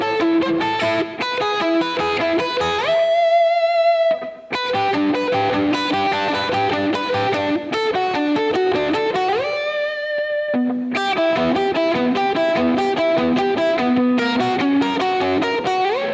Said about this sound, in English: here is the other guitar, the lower part